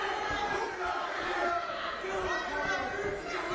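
Crowd noise fills an amateur boxing championship finals bout, a steady dense roar of shouting and chatter with no pauses, close and loud throughout, with voices mixed in.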